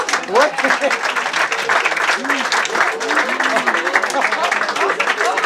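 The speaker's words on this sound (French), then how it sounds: "je vous demande de l'applaudir" An audience applauds a man, a thick, continuous patter of clapping throughout, with voices calling out and talking over it, loud and close.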